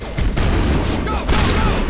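Dense, loud gunfire from a Mass Effect firefight, with overlapping rapid shots rattling continuously in a close, sustained barrage that has no pauses.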